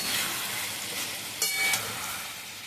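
Fried prawns and pointed gourd sauté in a pan, giving a steady, close, hissing sizzle with a brief burst of stirring near the middle.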